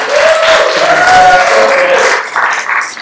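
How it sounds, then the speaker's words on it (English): Audience applause and cheering at a live bourbon-themed show, a loud, dense burst of clapping with whoops and whistles lasting a few seconds, tapering slightly at the end. "round of applause if you've heard the show before"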